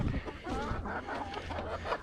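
A rooster on a small farm clucks and calls in short repeated bursts close by, over a steady low background rumble.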